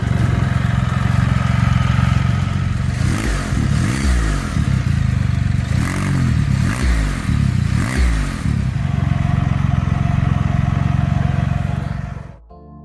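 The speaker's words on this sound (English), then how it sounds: "the ECU reflash has improved the sound of the trike." A custom trike engine with a reflashed ECU rumbles loudly and close, blipping the throttle in several sharp revs before settling back to idle and cutting off abruptly at the end.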